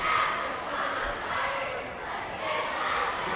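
A crowd at a high school basketball game between the South Hadley Tigers and Mohawk Trail Regional Warriors roars and cheers in a gym, a loud steady wash of voices that swells and dips.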